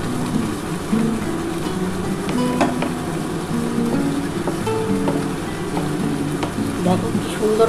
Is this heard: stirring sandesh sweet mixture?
yes